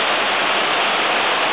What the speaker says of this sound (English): Start to rain very heavy.